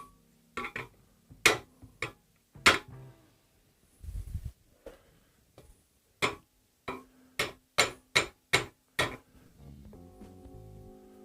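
A hammer knocking a part into place while building a 3D printer, with a dozen or so sharp, close taps in irregular bursts, some in quick pairs, separated by quiet gaps.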